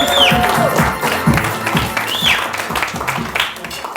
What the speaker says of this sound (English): give her a bigger round of applause